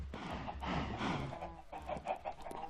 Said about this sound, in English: A whole bunch of chickens.